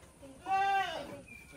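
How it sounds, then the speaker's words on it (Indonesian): A red-headed goat gives one loud, wavering bleat at close range, lasting about half a second, with quieter barnyard background before and after. "Iki ndek wedhus sing ndas abang."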